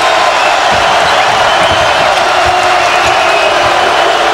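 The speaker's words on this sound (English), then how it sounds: "Crowd on its feet." A packed college basketball arena crowd at a UCLA–Kansas game roars on its feet, a loud, sustained wall of cheering and shouting with no break.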